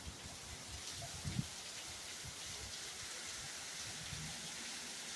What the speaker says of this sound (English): Ooh, the clouds bust and cry out rain.